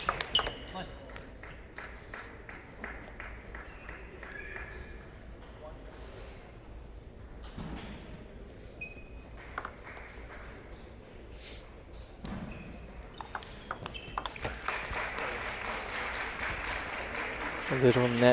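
A table tennis ball clicks in sharp, rapid bounces during a serve and rally at a college national singles match, with gaps between points, crowd applause and commentary over it.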